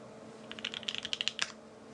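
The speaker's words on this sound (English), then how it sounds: "Let's do a typing test." Quick typing on a custom Think 6.5 V2 mechanical keyboard, about a dozen crisp, close keystrokes in an irregular burst lasting around a second, with a faint steady hum behind them.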